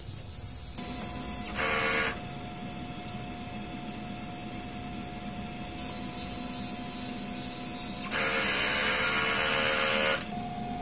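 A DTF printer whirs steadily with a mechanical hum, broken by two louder bursts of hissing, rushing noise as the print head cleaning cycle runs.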